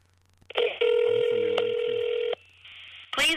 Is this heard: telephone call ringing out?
yes